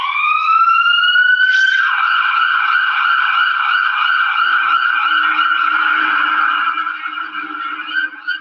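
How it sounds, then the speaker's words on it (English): An emergency vehicle siren wails in a loud, steady tone that sweeps upward at the start and then holds, heard alone with a faint low rumble creeping in toward the end. "here I used an emergency car sound"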